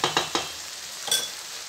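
Paprika stirred quickly as it fries in a pan, three brisk scraping strokes over a gentle sizzle, then a pause and one more scrape, close up with no voices.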